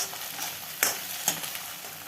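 Egg noodle mixture sizzling and frying in a pan, a steady broadband sizzle with two sharp scraping strokes of a spatula as the fried egg is stirred and mixed through; no talking.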